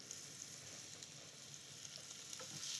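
Onions and carrots with a little salt and peperoncino sauté in a soup pot, giving a continuous close-up sizzle with faint crackles and no talking.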